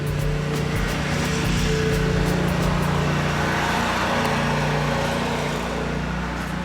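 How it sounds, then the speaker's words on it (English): A neighbor's lawn mower engine drones steadily in the background, a constant rumbling hum with no pauses and no talking. "right now in the middle of a video, my neighbor's lawn is getting cut"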